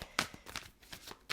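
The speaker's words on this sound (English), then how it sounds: "2 more shuffles, please" Tarot cards being shuffled by hand, several quick riffling bursts in a short, uneven rhythm, close and fairly quiet, with no talking.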